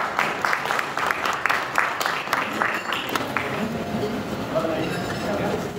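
Applause from a gathering at a memorial service, dense clapping for about three seconds that thins and fades into murmuring voices.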